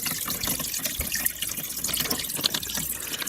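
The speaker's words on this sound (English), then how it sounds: "then fill it up with water" Water pours steadily into a small portable washing machine loaded with a week's worth of clothes, a continuous close splashing and trickling rush with no talking.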